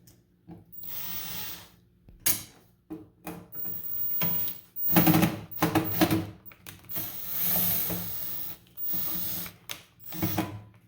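A power drill whirs in uneven bursts, its bit chattering and skipping against a metal bolt, slowly stripping it, with short pauses between the grinding spurts, during a range hood install.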